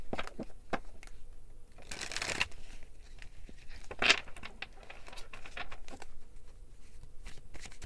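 Tarot cards are shuffled and handled in quick papery bursts, with a louder riffle around the middle and brief flicks and taps of a card being drawn, close and fairly quiet with no talking.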